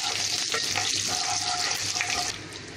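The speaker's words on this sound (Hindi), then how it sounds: "ये करी पत्ता तरतर तरतर हो गया ना के फिर कांदा डालेंगे ये दो डाली करी पत्ता है इसको अच्छे से भुनेंगे" Two sprigs of curry leaves crackling and frying in hot oil for pav bhaji masala, a busy spluttering sizzle with sharp pops and scraping stirs, fading slightly toward the end.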